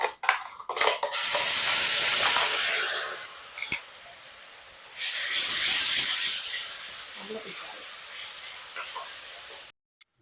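Chutney hits hot fried spice tempering in a pan, setting off two loud bursts of hissing sizzle that settle into a quieter crackle between and after them.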